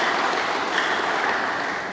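A church congregation gives dense, continuous applause during a sermon. The clapping is close and steady, with no talking over it.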